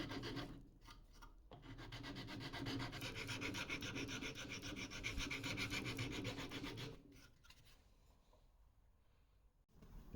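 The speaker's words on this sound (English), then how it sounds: "Any excess can be removed with a file to make the lead hole even with the lure's body again." A file rasps steadily across excess lead set into a wooden fishing lure, a continuous close scraping for several seconds that begins after a few short strokes and then stops abruptly into quiet.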